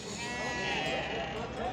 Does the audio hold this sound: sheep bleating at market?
yes